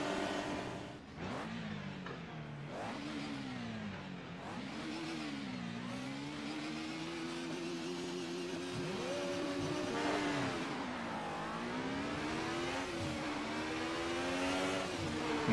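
Race car engines in Assetto Corsa Competizione rev and climb through the gears, with several cars droning and rising in pitch together at a steady, fairly faint level, without talk.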